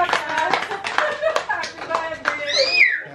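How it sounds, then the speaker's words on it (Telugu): A few hand claps from a family gathering at home, mixed in with children's voices and chatter. "క్లాప్స్"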